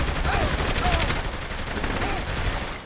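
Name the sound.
submachine gun firing in Saints Row: The Third video game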